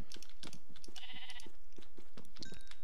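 Sheep in Minecraft bleating in short wavering calls, several in a row, over a steady clatter of rapid keyboard typing.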